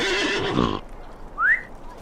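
A horse in a Lord of the Rings video game whinnies in a loud, close burst that cuts off sharply, followed by a brief faint high whistle-like tone.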